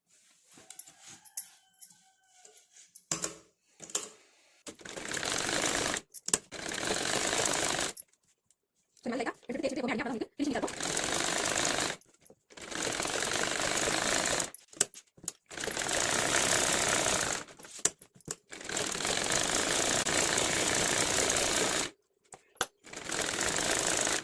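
A sewing machine stitches the lining and main cloth of an aari-work blouse together. It runs in bursts of fast rhythmic whirring and clatter, from a few seconds to several seconds long, separated by short stops.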